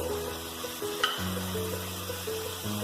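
Chopped tomato and green chilli frying in a pan, a loud steady sizzle with a low hum underneath and occasional scraping stirs, close and continuous.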